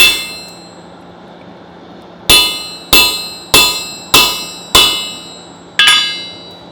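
Six sharp hammer blows on a metal punch driven through hot steel on an anvil, struck in a fairly steady rhythm with ringing metallic clangs, loud and close with no voices.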